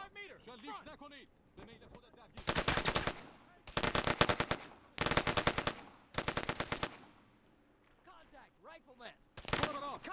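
Video game assault with bursts of automatic gunfire, several loud sustained volleys separated by short pauses, with a voice talking in the gaps between them.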